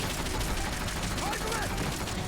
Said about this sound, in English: Ow, shotguns.